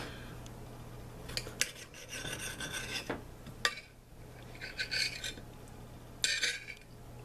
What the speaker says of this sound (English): Let's go ahead and put it together and cut it open.